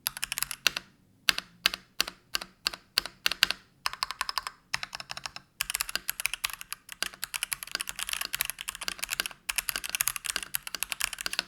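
Fingers typing on a Lekker analog mechanical keyboard with a deep thonk: bursts of crisp, closely miked keystrokes, first a few separated clusters, then a fast continuous run with brief pauses.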